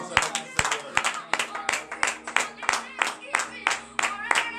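A congregation at a Friday morning prayer service in Benin claps in a steady, quick rhythm, loud and close, with voices singing over the beat.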